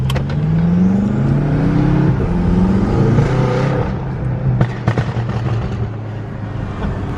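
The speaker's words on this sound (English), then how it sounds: "you're gonna hear those turbos spool up" An 800-horsepower BMW F10 M5 revs hard up close, its turbos spooling with a rising whine over the engine roar before the revs drop and a few sharp pops and flutters follow.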